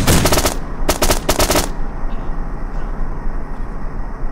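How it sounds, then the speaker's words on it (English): Rapid machine gun bursts in the ARMA military video game, three loud close volleys of fast shots in the first two seconds, then a rumbling engine-like drone carries on alone. "What, with the machine gun?"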